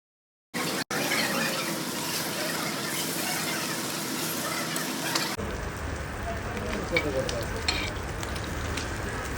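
Fresh Padma hilsa fish pieces frying in a pan, a loud dense sizzle that starts abruptly after a brief silence, then turns to a softer, fizzier bubbling with scattered pops, no one speaking over it.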